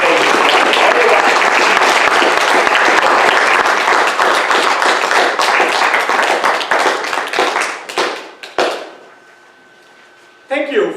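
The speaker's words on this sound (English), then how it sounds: "Thank you for that wonderful round of applause" An audience at a Toastmasters district speech contest gives a loud round of applause for a speaker, dense clapping that thins into scattered claps and fades away before a brief burst returns at the end.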